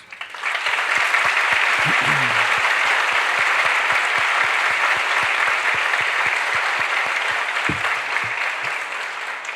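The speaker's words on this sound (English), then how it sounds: "Let's give a big round of applause to all your family and friends." Guests at the Laredo College EMS pinning ceremony give a big round of applause for families and friends. The clapping is sustained, dense and even, and carries across the hall for nearly ten seconds after a brief swell at the start.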